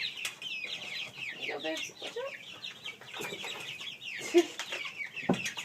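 Homestead chickens cluck and murmur close by in a busy, overlapping chatter of short calls, with a person briefly speaking softly among them.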